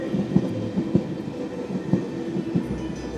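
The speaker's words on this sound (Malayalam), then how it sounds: "ഇതാണ് ഇവിടുത്തെ ട്യൂബ് ട്രെയിൻ." A London Underground tube train passes near Colindale station, a low rumbling roll with regular clickety-clack wheel beats, moderately distant and steady, with no voices.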